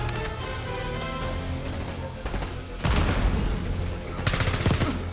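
Gunfire in the Call of Duty Black Ops 6 campaign on veteran difficulty: bursts of rapid shots and sharp cracks over a steady game backdrop, with a heavier volley near the end.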